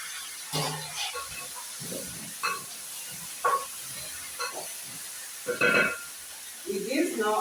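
Potatoes and onions frying in oil for mukimo give a soft, steady sizzle under a voice, which comes in short bursts over the frying.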